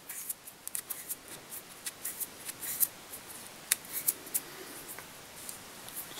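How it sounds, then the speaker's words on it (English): Scissors make a string of small, crisp snips near the microphone while trimming the rough ends of olive wool on an olive Woolly Bugger fly, with short pauses between cuts and no talk. "I'm going to cut off those rough ends."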